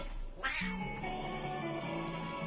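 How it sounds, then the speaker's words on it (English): A cat meows amid a busy mix of video game music and sound effects from Rayman Origins, its calls blending into a steady, loud backdrop with no clear gaps. "Even the cats are getting tired of watching the credits."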